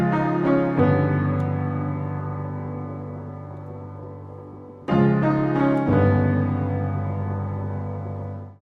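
A spinet piano layered with a synth MIDI piano plays two long sustained chords with a few quick grace notes, each ringing out and fading gradually with no voices.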